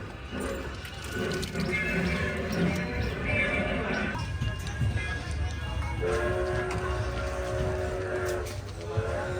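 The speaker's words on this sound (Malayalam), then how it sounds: "ഇതാ നമ്മുടെ ട്രെയിൻ സ്റ്റാർട്ട് ചെയ്തേ." A small tourist train pulls away and keeps running, with a tooting horn or whistle tones over a busy, noisy rumble and mixed background sounds of a crowded outdoor spot.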